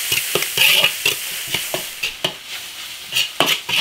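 Minced pork sizzling and stir-frying in a wok with garlic, chili sauce and oyster sauce, a steady loud sizzle broken by repeated scraping stirs of the spatula, close up and without talk.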